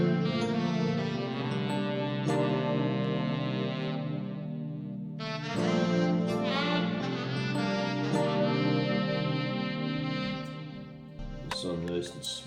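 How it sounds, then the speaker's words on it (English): Amber Tone Sensual Sax saxophone playing a smooth melodic line over electric piano chords in a chill melodic trap beat, steady and sustained with effects and reverb, ending in a brief burst of other sound. "The saxophone is out of a amber tone sensual sax."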